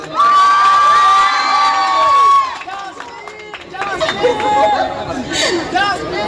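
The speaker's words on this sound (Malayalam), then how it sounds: "കൈയടിക്കോ എല്ലാവരും ഒന്ന്" A crowd at a public stage event in Palakkad cheers and whoops loudly, with shrill shouts and excited chatter, then settles into lower, busier murmuring with scattered calls.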